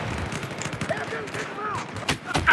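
Battlefield 5 video game gunfire crackles as a rapid volley of shots and bursts, mid-distance and moderately loud, with game voices and ambient battle noise mixed in.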